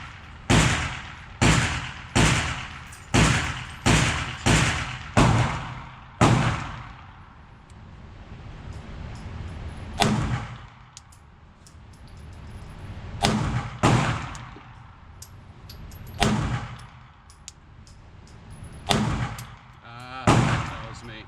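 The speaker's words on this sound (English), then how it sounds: "We're shooting MagTech 124 grain." Glock 19 pistol firing MagTech 124 grain ammunition outdoors, a quick string of about seven loud, sharp shots, then scattered single shots with long pauses, some nearer and some more distant.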